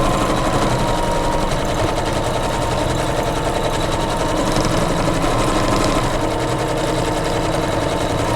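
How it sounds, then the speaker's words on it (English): Sewing machine stitching a scroll quilting design across pieced blocks of a Kimberbell pillow, a loud, continuous, fast mechanical whir close up for the whole stretch with no talking. "my next step here is to actually just do the quilting. And again, I'm doing this little scroll."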